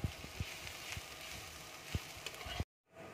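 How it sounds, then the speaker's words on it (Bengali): Chopped onion with salt sizzles in hot oil for an onion-and-poppy-seed dish, a steady crackling hiss broken by a few soft stirring knocks before cutting off abruptly near the end. "পেঁয়াজটাকে আমি লাল করে ভেজে নেব।"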